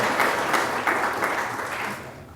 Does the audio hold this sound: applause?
yes